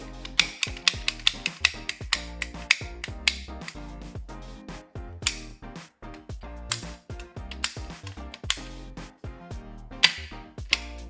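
A hose is cut to length on a 1986 Tatra 815 truck, a series of sharp clicking and snipping sounds in an uneven rhythm, close by and with no talk.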